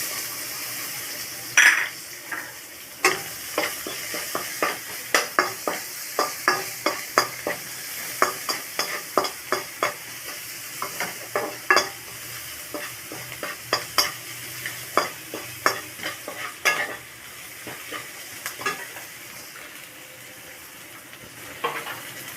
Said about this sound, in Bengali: এই কড়াইতে একটা পেঁয়াজ মিডিয়াম সাইজের টুকরো করে রেখেছি দিয়ে দিলাম